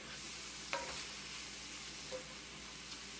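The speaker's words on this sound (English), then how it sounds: "Make sure you stir the mushrooms around a little bit." Mushrooms stirred in a pan, with a soft steady sizzle and a couple of brief scraping strokes from the stirring, quiet and close.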